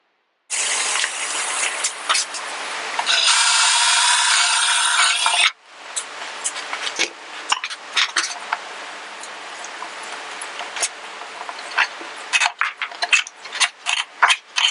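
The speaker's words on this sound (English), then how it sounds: "I'm going to use the screw eye and center it in the center as well" A screw eye is turned into a wooden cornhole board, giving a loud close grinding burst followed by irregular ratcheting twists and creaks of metal biting into wood.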